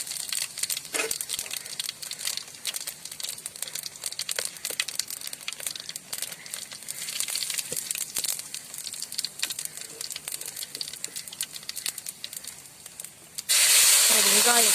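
Cinnamon, cloves and cumin crackle and hiss steadily in hot oil for a village-style country chicken curry, a dense close sizzle with scattered pops, rising into a loud burst of hissing near the end.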